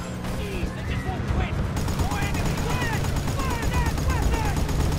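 Rapid automatic gunfire rattles steadily in Battlefield Bad Company 2, a dense stream of shots under continuous game noise, with chirping and squealing effects layered over it and voices talking along.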